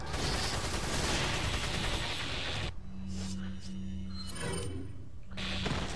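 Sniper rifle fire in the video game Resident Evil 4, heard as dense, loud blasts that fill the opening seconds. A quieter stretch with a steady hum and a few faint clicks follows, and another burst comes at the end.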